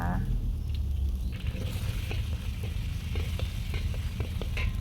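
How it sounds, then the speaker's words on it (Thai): Garlic sizzles and crackles in hot oil in a pan for Korean-style kimchi stir-fry with shabu pork, a steady loud frying hiss with small pops and stirring scrapes while someone talks over it. "เราเอากระเทียมใส่ไปก่อน ผัดให้กระเทียมหอม"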